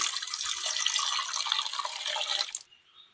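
Water pours in a steady splashing stream into a pressure cooker holding soaked chickpeas, for a couple of seconds, then stops abruptly, leaving a faint trickle.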